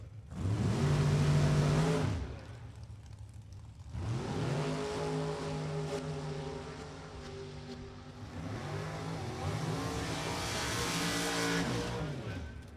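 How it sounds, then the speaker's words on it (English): Super Gas Corvette drag race cars roar off down a drag strip one after another, each loud engine rising in pitch through rapid gear changes, with a pause between runs and the last fading into the distance. "It's going to be a battle of who has the quickest, or should I say the fastest of the Corvettes"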